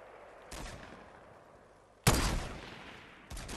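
Gunfire in the Fortnite video game: three separate sharp shots spaced over a few seconds, the middle one loudest, each trailing off with a brief echo.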